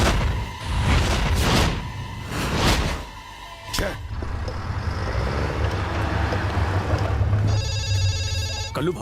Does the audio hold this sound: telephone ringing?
yes